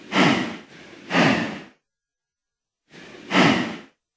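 Two drawn-out breathy exhales from a Minecraft cow, a pause of silence, then another heavy breath, close and fairly loud, with no talking.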